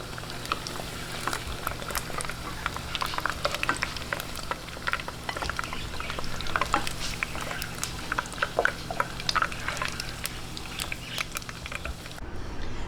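Eggs frying in a pan over medium heat, a steady crackling sizzle with dense pops and spatters running continuously at close range, no voices.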